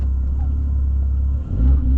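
A Porsche Cayman S 987.1 with factory exhaust, recorded from above the engine cover while parked, idles with a deep steady rumble and then swells into a louder rev near the end.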